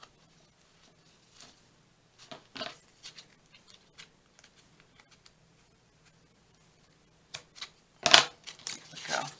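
Scissors snip off the tied end of thread or ribbon on a craft project, giving a few faint, soft clicks and rustles close by, then a sharper, louder cutting and handling burst near the end.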